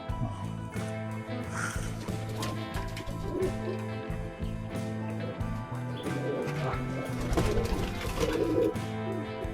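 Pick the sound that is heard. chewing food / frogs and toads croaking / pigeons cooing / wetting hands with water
pigeons cooing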